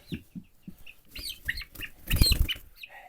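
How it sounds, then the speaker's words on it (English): Young chicks in a homestead brooder give scattered high peeps and cheeps up close, with a brief scuffle of flapping and movement near the middle. "that still leaves our own chicks, if you remember, that are in the brooder"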